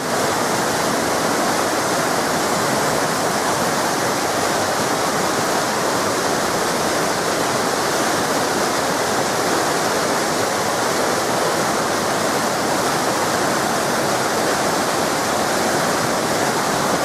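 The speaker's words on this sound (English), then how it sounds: "Like a giant sort of waterfall stream coming down the mountainside." Steady, full roar of a waterfall stream pouring down a steep mountainside on Cadair Idris, a continuous wash of rushing water with no breaks, heard alone at moderate level.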